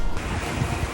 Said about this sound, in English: We're surfing down these waves now.